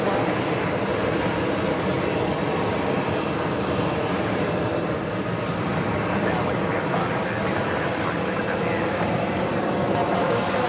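A Delta Boeing 757-200 jet, originally delivered to TWA, arrives at Terminal 4 at New York's JFK airport, with a loud, steady engine roar that holds at constant strength throughout and a voice talking over it.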